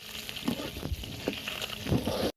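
Boiled quail eggs frying in oil in a wok with a little turmeric, a soft continuous sizzle broken by light stirring knocks, close up with no talk, ending abruptly.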